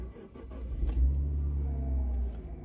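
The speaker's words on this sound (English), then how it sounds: "That's the engine on." Jaguar XJ6 Sport with a 3.2-litre straight-six engine starting and settling into a quiet, low, steady idle rumble, with a few faint clicks and no talking.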